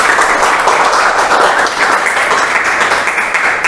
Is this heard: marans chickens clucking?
no